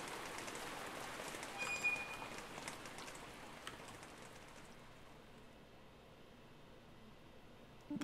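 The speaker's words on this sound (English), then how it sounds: "And there I was, standing in the rain." Rain falls steadily in the dark side-scrolling game Distraint, a soft, even hiss of drops on surfaces that thins out slightly toward the end, with no voices.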